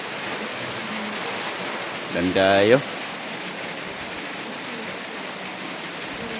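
Steady rain falls outdoors in an even, broadband hiss that runs throughout, with a short burst of voices partway through.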